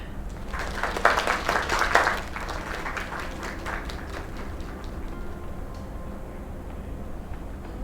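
Applause from a small crowd in the video game Lake breaks out at a performance, a short burst of clapping that peaks early and then fades into a quiet ambient hum.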